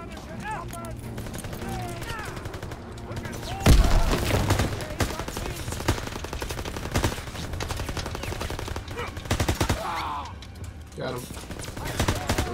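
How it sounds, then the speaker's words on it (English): Rapid bursts of gunfire and machine-gun fire in the Call of Duty WWII campaign, a dense, loud run of shots with a heavy blast near the start, while a player talks over it. "Well, I'm shooting through here."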